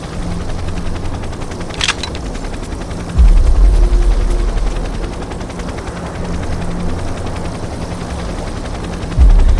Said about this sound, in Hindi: तो अपने हेलीकॉप्टर की अभी लैंडिंग होगी सामने एच पे।